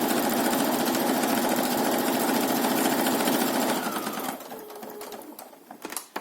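Sewing machine stitching around a thick cotton face mask, a loud steady rapid mechanical whir for about four seconds that slows and stops, then a few faint clicks and handling noises.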